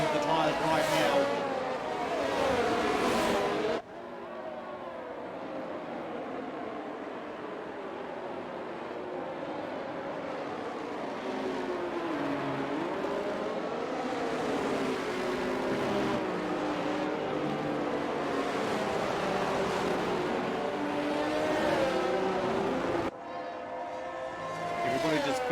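Race cars on a formation lap in the video game F1 22, set in Mexico, give off a continuous engine drone whose pitch wavers up and down, with a voice talking over it.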